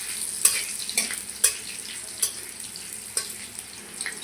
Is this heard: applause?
no